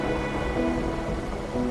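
Steady rain falls in a video game scene, a loud, even wash of patter filling the whole moment with no voices over it.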